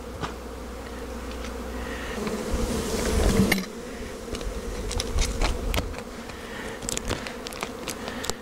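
A dense swarm of honey bees hums steadily in an open hive during an Apivar treatment, with scattered clicks and brief knocks from handling equipment among the buzzing.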